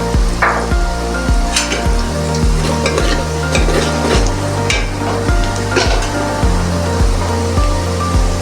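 Onions, garlic and ginger fry in a pan for a dhaba-style spinach and meat curry, a steady loud sizzle with repeated stirring scrapes, close and continuous throughout with no talking.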